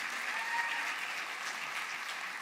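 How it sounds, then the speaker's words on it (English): Sustained audience applause at a local business challenge event, honoring a woman who has just finished speaking; even, continuous clapping at a steady moderate level with no voices breaking through. "So another round of applause for this lady."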